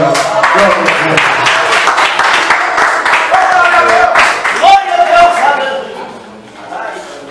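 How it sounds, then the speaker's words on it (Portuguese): Church congregation claps for a woman called forward during an evangelical service, steady applause running throughout with singing and speech voices over it. "Vamos aplaudir aqui a nossa irmã Ana."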